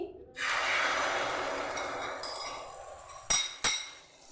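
Radish mixture tipped into hot white oil over low-to-medium gas flame, a sudden broad sizzle that swells then slowly fades, with two sharp utensil clinks near the end.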